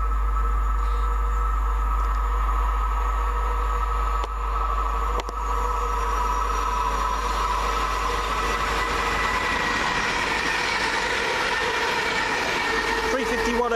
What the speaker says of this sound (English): Next through, 2 Charlie 25 from Birmingham New Street to Coventry for London Midland.